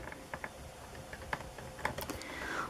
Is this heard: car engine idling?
no